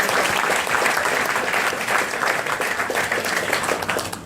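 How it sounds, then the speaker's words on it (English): Steady applause from a crowd at a student talk, dense clapping filling the whole stretch at fairly close range with no pauses. "give Civic a lot of applause"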